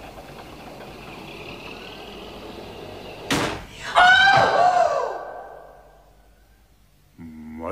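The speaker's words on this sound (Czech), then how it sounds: "nikdo ty dveře nezavře." In an old radio drama, a door slams shut with one loud close bang, then a brief rattling echo as it settles, over a faint steady background hum.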